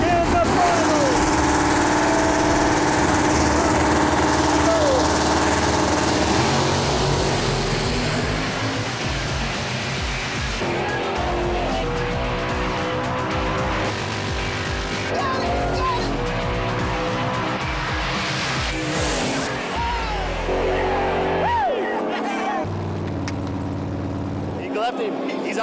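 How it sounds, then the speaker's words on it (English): A drag race between a big-block 440 Plymouth Duster and a 600-horsepower Chevy Camaro: loud, sustained engine roar with revving and shifting pitch through most of the stretch, fading near the end. "Mike Gromzinski's big block 440 Duster is itching to stomp on another Chevy"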